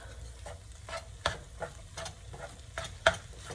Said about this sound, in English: I'm just dumping this egg in here. And just gonna mix it all up